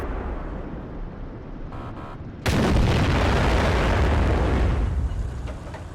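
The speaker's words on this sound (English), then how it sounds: "You just listen during the course of this entire battle to the guns going off around me" A tank gun fires in World of Tanks with a modded gun sound, a single heavy blast breaking from quiet ambience into a long rumbling roar that fades slowly.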